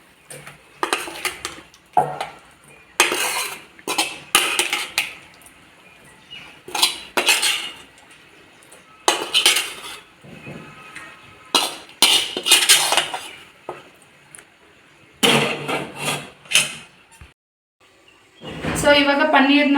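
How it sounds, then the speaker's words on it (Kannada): Paneer fries in a pan and is served onto a plate, with repeated metallic clinks and scrapes of a utensil against cookware coming in close, loud bursts and a brief sizzle near the end. "ನಾನು ಇನ್ನೊಂದು 2-3 ಸೆಕೆಂಡ್ಸ್ ಫ್ರೈ ಮಾಡಿಬಿಟ್ಟು ಇದನ್ನು ಎತ್ತಿಡ್ತೀನಿ"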